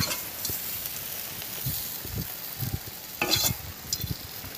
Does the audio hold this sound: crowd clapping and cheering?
no